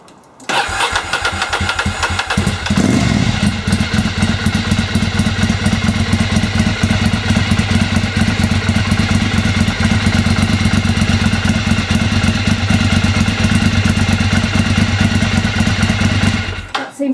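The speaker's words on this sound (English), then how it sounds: "We'll just start her up." A Ducati 696 motorcycle engine cranks, catches and settles into a loud, steady idle close by, with a deep, even rumble that runs unbroken until it cuts off at the end.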